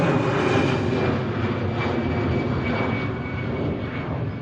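Boeing 747 landing at Manchester Airport, a loud broadband engine roar that swells slightly with passing pulses and then gradually fades as the jet moves away.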